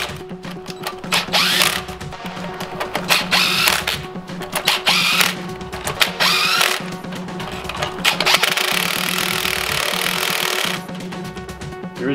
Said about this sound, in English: I'm just gonna get this sort of like snug with the gun a little bit